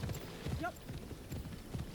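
Horse hooves clip-clop at a steady walking rhythm in Assassin's Creed Shadows, quiet and close, with a brief whinny-like tonal sweep partway through.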